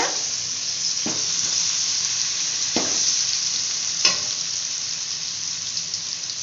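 Onions fry in a pan of oil left over from frying chicken, sizzling with a steady loud hiss while a spoon scrapes through them in a few separate strokes.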